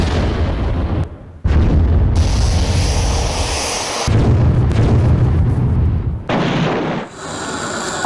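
Heavy explosions and artillery-like blasts from attacks in Ukraine, loud and sustained with rumbling bursts and brief gaps, no talk.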